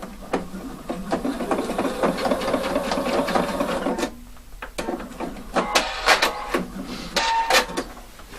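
A sewing machine runs in a steady, rapid stitching burst for about four seconds while tacking a convertible collar's facing down in the shoulder seam, followed by scattered clicks and short handling noises.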